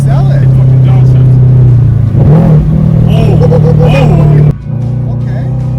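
The engine of a cheap sports car revs hard on a downshift, a loud, close, steady drone that blips upward mid-way. It cuts off sharply near the end, with a voice briefly heard over it.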